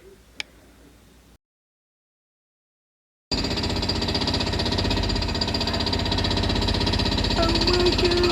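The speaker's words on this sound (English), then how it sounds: "They're gonna jackhammer this. It's gonna be so loud," Jackhammer breaking up a garage floor during demolition: after a short faint start and a silent gap, loud continuous rapid pounding takes over and runs steadily to the end.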